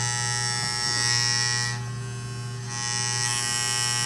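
Andis Master hair clippers run with a steady, smooth electric buzz close by, continuous for several seconds with a brief dip in intensity midway and no talking.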